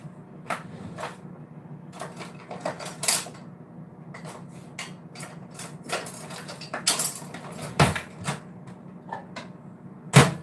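Metal utensils clink and clatter in scattered bursts, with creaks and scrapes as a kitchen drawer is rummaged through for a spoon, close by and fairly quiet.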